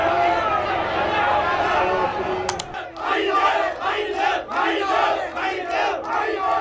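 A large crowd screaming and shouting during the Sri Lanka crisis, a dense roar of many voices rising in repeated surges, loud and close.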